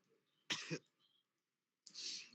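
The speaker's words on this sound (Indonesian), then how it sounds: "aku lagi batuk pilek ini" A person with a cold coughs, one sharp close double cough followed by a short pause and a breathy throat sound.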